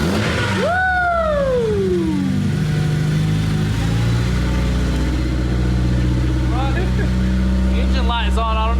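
A wrecked Honda S2000 engine runs while warming up: a quick rev sweeps up and falls away early, then a steady low idle drones on close by, with brief voice-like sounds near the end.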